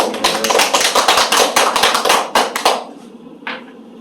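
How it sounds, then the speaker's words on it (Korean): Audience at a lecture clapping, a close, brisk patter of many hands for under three seconds that quickly dies away, followed by a single faint sound. "박수로 시작할까요?"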